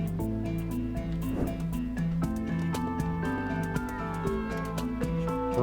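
A cat meows within the video game Dyscourse while a storm rages; the meows sit over steady tonal game music, fairly loud and continuous, with no one speaking.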